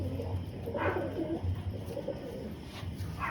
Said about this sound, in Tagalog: Ito si Chupal, may naunahan siya, 4 na ibon.